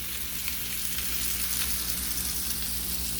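Meatballs seasoned with garlic, onion and paprika frying in a pan, giving a close, steady, crackling sizzle with faint pops and no voices.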